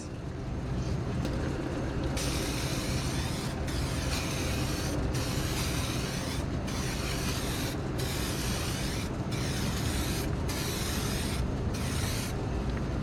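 A spray can lays clear coat onto a car headlight in sweeping passes, a loud continuous hiss broken by short regular pauses between strokes, close up with no speech.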